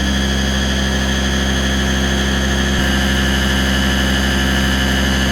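An Aerus Lux Guardian C154E vacuum cleaner runs with its power nozzle on low, giving a loud, steady, close motor drone and airy whine that holds constant throughout.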